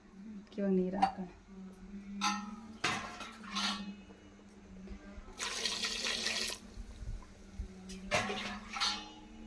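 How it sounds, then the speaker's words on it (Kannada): Water is poured into a pot of sambar made with head and trotters. A short rushing splash comes in the middle, among a few utensil clinks, with soft voices nearby. "ಇವಾಗ ನೀರು ಹಾಕೋಣ."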